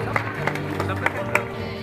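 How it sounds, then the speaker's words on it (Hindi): Applause for the education department's tableau at a Republic Day flag-hoisting ceremony at Indira Gandhi Stadium, Purnia, heard as distant crowd clapping with sharp periodic claps over a steady hum, under an announcer's amplified voice. "जोरदार तालियां शिक्षा विभाग के लिए"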